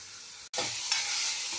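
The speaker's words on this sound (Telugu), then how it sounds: "ఇది కొంచెం ఆయిల్ తేరే వరకు వేయిద్దాము, ఒక 2 మినిట్స్ వేయిద్దాం." Onion, ginger and garlic paste frying in hot oil for a bottle gourd dappadam curry, a loud, steady sizzle with stirring that cuts out for a split second near the start, then continues alone.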